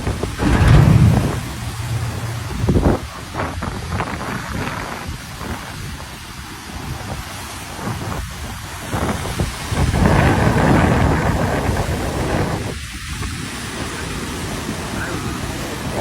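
Storm at sea off Koh Mai Si Island, Trat Province, with roaring wind buffeting the microphone and rumbling thunder-like booms as a ship is driven onto a rocky shore, loud and sustained.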